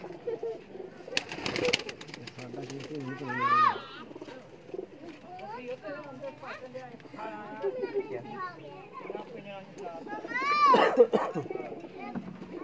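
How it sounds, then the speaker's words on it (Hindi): A pigeon coos repeatedly in bursts while people talk nearby and children's voices can be heard in the background. "चैंपियन कबूतर है।"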